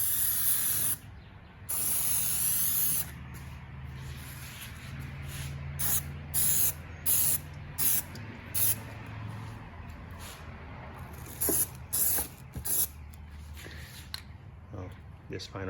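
Trim restorer is sprayed onto sun-damaged car window trim in repeated short aerosol hisses of varying length, close by, while someone talks over them.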